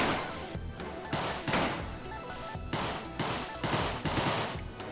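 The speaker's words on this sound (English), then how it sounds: "I think we try and shoot out all the lights that we can." Gunfire shooting out lights in the game Deadbolt, a rapid run of sharp shots with smashing impacts, loud and close, several bursts spaced about a second apart.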